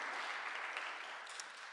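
Faint, even clapping from a small audience at a music education recital, a soft continuous patter that tapers slightly toward the end.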